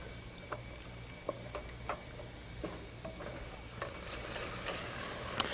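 Chickpeas in a thick sauce bubbling hard on a high flame: a steady low sizzle broken by irregular sharp pops and spits from the pan, close and fairly quiet, with no talking.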